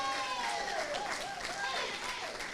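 An audience at a community gathering gives a round of applause, a steady patter of clapping held throughout, partly under someone speaking over it.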